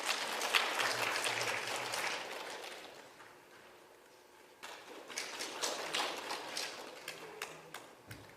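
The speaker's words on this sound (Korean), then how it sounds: "여러분 박수로 맞이해 주시면 고맙겠습니다." An audience at a Korean literature conference claps to welcome the keynote speaker. Dense applause fills the room, thins out midway, then picks back up as scattered, uneven claps.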